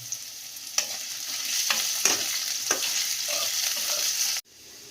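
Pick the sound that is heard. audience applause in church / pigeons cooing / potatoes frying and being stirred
potatoes frying and being stirred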